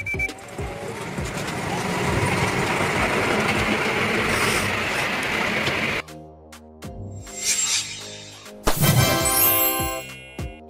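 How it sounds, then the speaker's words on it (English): A small zoo train carrying visitors on a scenic ride, its rumble and wheel noise steady for several seconds, then a sudden cut to quieter, sparser rolling and clanking with a few louder bursts near the end. "Zoo train."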